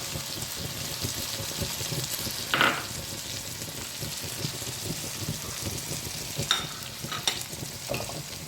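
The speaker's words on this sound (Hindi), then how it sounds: "अदरक लहसुन को थोड़ा सा फ्राई करने के बाद इसमें प्याज डाल दें।" Onions sizzle steadily in hot oil with ginger and garlic, with a few sharper stirring scrapes and clinks rising over the constant frying hiss. No one speaks.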